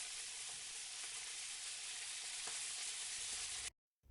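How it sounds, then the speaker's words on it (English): Whole wheat hakka noodles with salt and pepper fry in a pan, a faint continuous sizzle with a few soft stirring touches, cutting off abruptly near the end. "Again fry it for 1 minute."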